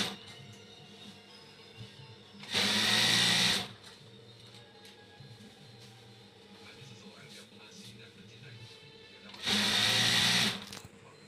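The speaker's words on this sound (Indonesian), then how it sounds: "Kalau sudah rata, baru kita jahit lagi, dan seperti itu seterusnya" A sewing machine stitches foam-layered bedsheet ruffles in two loud, steady bursts of about a second each, separated by quieter room sound with faint background noises.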